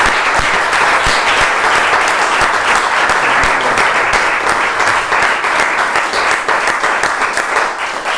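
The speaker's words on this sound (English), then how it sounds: "let's have a round of applause" Dense, sustained applause from a large audience at the close of a climate talk, loud and even throughout with no voices.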